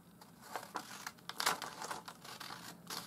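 Scissors cut through paper name slips, giving a faint, close series of crisp snips and papery rustles.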